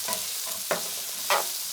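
Celery for a white bean, kale and sausage stew stirred in a pot, giving a faint steady sizzle with two short scraping bursts from a spoon against the pot.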